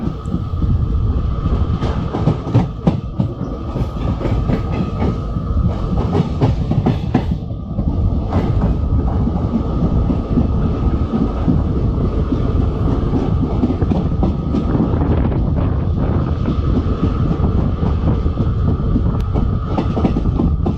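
A Sabari Express passenger train runs along the Kottayam line in Kerala, its wheels rumbling loud and steady with a continuous clickety-clack of rail joints throughout.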